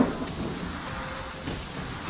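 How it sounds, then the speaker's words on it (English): Steady broadband rain roars across an outback storm in Australia, with a low rumbling of thunder underneath, continuous and fairly loud throughout with no voices. "Now the rain's coming."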